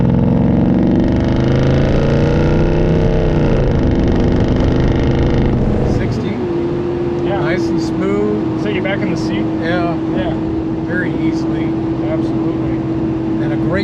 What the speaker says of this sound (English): there's nothing like a big block with dual exhaust